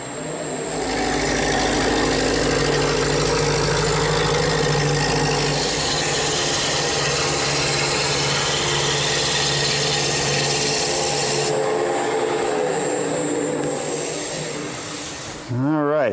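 Wood turning on a lathe as a gouge rounds a chair part in a workshop: a loud, steady broadband cutting roar with a low motor hum beneath, running continuously for about fifteen seconds before winding down.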